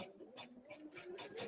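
An embroidery machine stitching a design onto paper runs in a fast, steady mechanical rhythm, close and moderately loud, with no talk over it.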